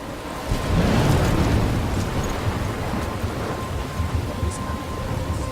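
A loud, sustained thunderstorm rages in the video game Life is Strange, with heavy rain and wind noise swelling into a dense rumbling roar that persists throughout.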